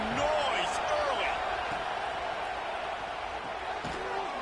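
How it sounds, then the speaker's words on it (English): Stadium crowd at a football game, a continuous roar of many voices with scattered shouts and whistles, fairly distant and steady throughout. "This crowd bringing the energy and noise early."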